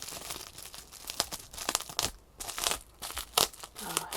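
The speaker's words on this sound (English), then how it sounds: "it has a little bit of bubble packaging here" Bubble packaging crinkles and crackles close up while being handled during an unboxing of a pair of earrings, irregular bursts of crisp plastic rustling and crunching over about four seconds, with no talking.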